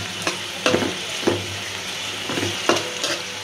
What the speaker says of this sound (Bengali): পেস্টটা একটু সুন্দর করে ভাজা ভাজা করে তারপরে একে একে সব পদের মশলা দিয়ে দেবো।